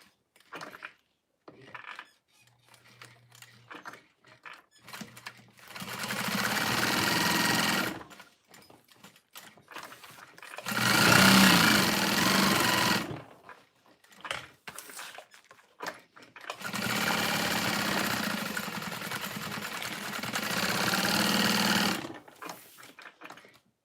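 Industrial sewing machine running fast while sewing pouches, in several loud sustained bursts separated by short pauses with handling noise, close by and without talk.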